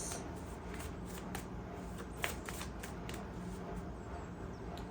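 Tarot cards are shuffled by hand for a reading, giving a continuous soft papery riffling and flicking with small snaps, close and quiet, with no voices.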